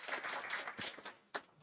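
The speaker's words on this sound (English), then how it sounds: "and a round of applause" Audience applause at a startup conference fireside chat session, a broad wash of clapping that swells and fades over under two seconds, with a sharp closer clap near the end.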